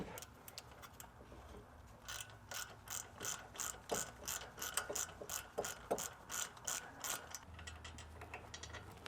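A socket ratchet clicks rhythmically while loosening wheel bearing bolts on an Infiniti G37 sedan, a steady series of close, quiet pawl ticks in repeated strokes.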